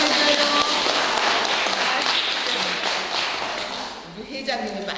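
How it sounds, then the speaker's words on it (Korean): Applause at an alumni association general meeting in a hall, a dense, loud, sustained clapping from a crowd, fading slightly toward the end with a voice starting over it. "박수 좀 해줘요."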